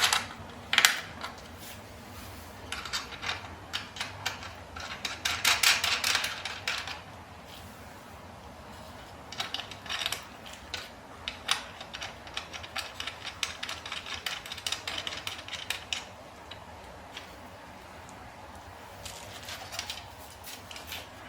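Screws being tightened on carbon fibre trunk parts for an F-Series BMW, with a tool ratcheting in short bursts of quick, close clicks, some louder clusters mixed in and brief pauses between them.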